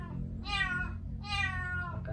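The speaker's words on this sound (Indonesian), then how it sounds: "Ini kucing." A cat gives two clear, drawn-out meows close by, with a short softer call at the end, over a low background hum.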